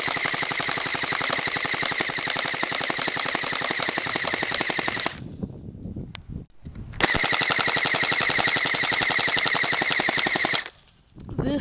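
Airsoft guns firing BB pellets in long rapid full-auto bursts, a loud, evenly spaced mechanical chatter lasting several seconds, pausing briefly before another sustained burst, with no talking.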